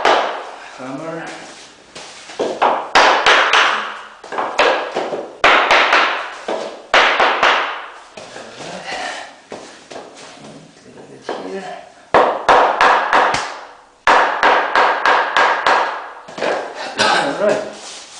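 Hammer tapping laminate floor boards together during a first-time bedroom installation, a long series of sharp knocks in irregular bursts, close and loud, with a voice talking between the strikes.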